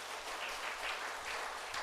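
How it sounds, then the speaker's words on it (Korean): Congregation in a church service claps together to welcome a newly registered member, a steady, fairly soft patter of many hands in a hall, with low rumble underneath and no voices. "우리 박수로 환영하도록 하겠습니다."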